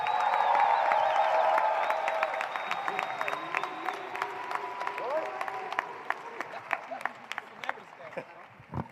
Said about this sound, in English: Give it up for Brian.